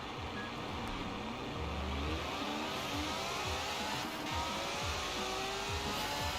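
A car in Forza Horizon 4 launches from very low RPM, its engine note climbing steadily through rising gear sweeps with a brief low rumble at the start, loud and continuous with no voices over it.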